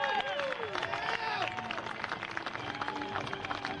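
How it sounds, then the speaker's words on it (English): A crowd at a military open house applauds and cheers as the US Army Golden Knights parachute team comes in to land, clapping spread across a noisy outdoor scene. "give them a big round of applause, ladies and gentlemen."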